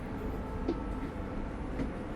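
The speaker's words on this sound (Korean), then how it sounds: "하여튼 기차가 잘 달리고 있습니다" A train running through Hokkaido, Japan, heard from on board as a steady, even rumble of wheels and carriage that carries through the whole stretch, with only a couple of faint brief knocks and no voices.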